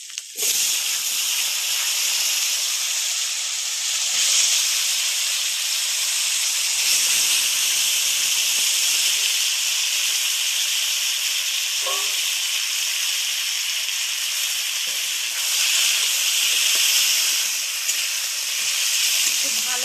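Potatoes and garden-fresh kohlrabi fry in a pan with green chilli, giving a steady, loud hiss and sizzle that holds for the full stretch, with faint clinks now and then and no talking.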